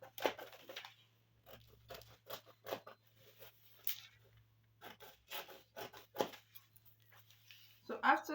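Scissors snip fabric for a batwing gown in a series of short, close cuts with quiet pauses between them, while a person talks between the snips.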